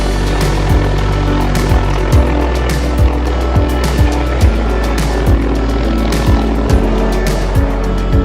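A helicopter hovers near power lines, its rotor thudding in a steady rapid beat under a loud, continuous engine roar, with no voices.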